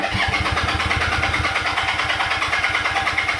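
A motorcycle left sitting for three months is cranked over with a little throttle, its starter churning in a fast, even, pulsing rhythm, loud and close, without firing into a steady idle.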